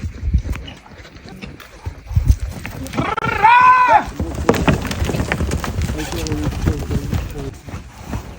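Horses' hooves clip-clop near at hand while people call out and urge the animals on, with a brief vocal cry over the steps.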